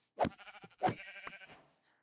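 Two sheep bleats from the Minecraft video game, close and clear, one short wavering call followed by a second longer one, with near silence around them.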